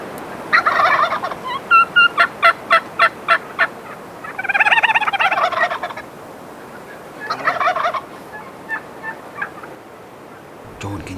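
Rio Grande wild turkeys gobble close overhead during an Oklahoma spring hunt, loud rattling bursts repeating several times over about eleven seconds with short quiet gaps between them.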